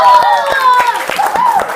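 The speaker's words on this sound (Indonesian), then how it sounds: "tepuk tangan dulu dong untuk semuanya" Students in a classroom guidance lesson clap in a steady, evenly spaced rhythm, the sharp claps close and fairly loud, with voices talking and calling out over them.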